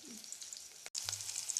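Onions and chillies hitting hot oil for tempering in a home kitchen, a steady bright sizzle that continues evenly after a brief pause, close and fairly quiet with no talking.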